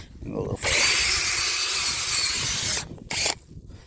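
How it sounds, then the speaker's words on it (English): A power drill whirs steadily for about two seconds, then cuts off, followed by a short second burst. "How many of you guys use your drills to pre-prep your beds?"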